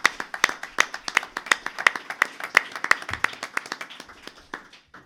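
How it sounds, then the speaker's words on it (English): Conference audience claps for panel speakers, crisp regular claps in a steady rhythm, strong at first and tapering off toward silence at the end. "Can we have a round of applause for all of our speakers"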